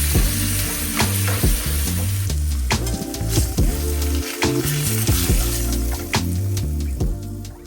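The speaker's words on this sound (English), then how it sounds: "I'm going to put a nice sear on the salmon" Salmon fillets seasoned with kosher salt sear in a hot pan, giving a loud, close, continuous sizzle with occasional clatters and shifts, and no one talking.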